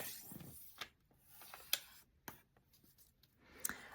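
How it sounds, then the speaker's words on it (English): Origami paper being folded and creased for a crane, giving soft scattered crinkles and a few sharp crisp creasing snaps, close and fairly faint, with no talking. "Fold it and crease it."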